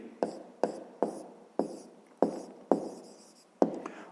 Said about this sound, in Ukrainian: Пишемо тоді.